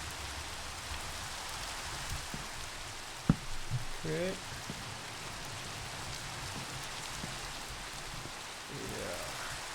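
Rain in Minecraft makes a steady, soft hiss with faint scattered drops. A person says a brief word partway through.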